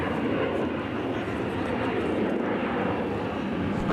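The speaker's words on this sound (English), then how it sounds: "The PW2000 just has a marvelous buzzsaw sound." A Pratt & Whitney PW2000 turbofan engine at a Minneapolis–Saint Paul airport roars loud and steady, with a harsh buzzsaw-like rasp over a broad, dense rumble.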